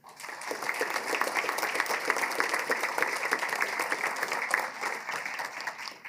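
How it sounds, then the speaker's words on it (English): A room full of people applauding those promoted at a fire-rescue pinning ceremony, sustained dense clapping that holds steady for about six seconds, close and lively throughout. "if we could get a round of applause for everybody promoting today."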